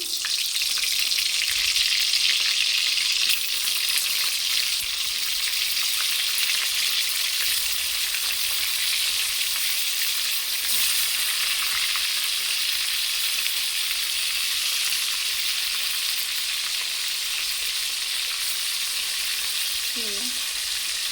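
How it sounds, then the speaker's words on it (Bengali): Fish pieces deep-frying in hot oil produce a steady, dense, hissing sizzle like heavy rain, close and loud throughout, with a faint clink near the end and no talking. "তেলটা গরম হয়ে গেলে আমি মাছগুলো এবার ডোর তেলে ছেঁকে নেবো"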